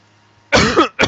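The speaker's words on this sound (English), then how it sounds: "Sorry, I had a cough there." A person coughs twice at close range, a harsh burst followed by a shorter second one after a brief gap, against near silence.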